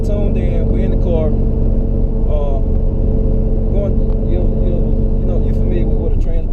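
A turbocharged Camaro engine drones steadily from inside the cabin, a loud constant low rumble with slight revving swells throughout, while people talk over it.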